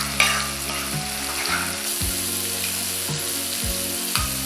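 Prawns fry for biryani in a hot pan, making a loud, continuous sizzle with a few stirring knocks and scrapes from a utensil.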